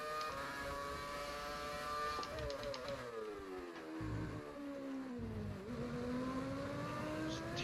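A race car in GTA 5 FiveM downshifts through a corner, its engine note stepping down and rising again in a steady whine that stays loud and close with no talking.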